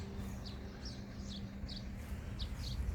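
Small birds chirping in a large home garden with a lawn, short high tweets repeating every half second or so, moderately near, over a low steady hum of background noise.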